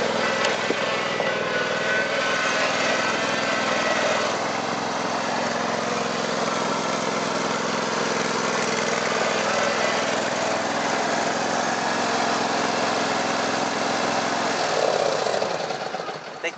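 A KARSIT K 22/102 HX garden tractor's engine runs steadily at close range with a constant droning hum and mechanical whine, cutting wet grass outdoors with little change in pitch.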